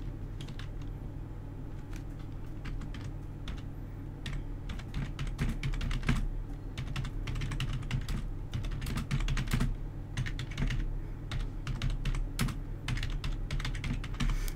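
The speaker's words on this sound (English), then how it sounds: "let me just begin by typing the topic of today's tutorial" Quiet, steady keystrokes on a computer keyboard, in irregular bursts of clicks with short pauses, over a low background hum.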